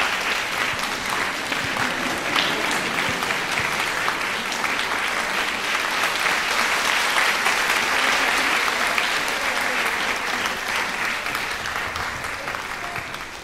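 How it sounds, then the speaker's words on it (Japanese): Sustained audience applause in a concert hall for the conductor and the choir teacher after a children's choral and music performance in Takasaki, steady dense clapping lasting the whole stretch, with a faint voice or two underneath. "お二人の先生方に大きな拍手をお願いいたします。"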